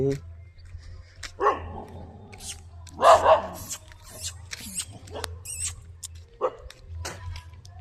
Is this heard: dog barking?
yes